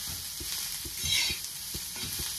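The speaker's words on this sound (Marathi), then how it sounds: "1-2 मिनिटासाठी आपल्याला कांदा असा आलटी पलटी करून घ्यायचा आहे।" Chopped onion stirred and fried in a pan for an onion paratha, giving a steady sizzle with a run of regular scraping stir strokes close by, no talking.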